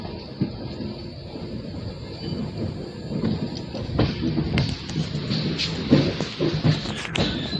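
Train pulling out of Gandhidham railway station, a continuous rolling rumble with faint wheel clatter and occasional high metallic squeals from the wheels, heard from on board.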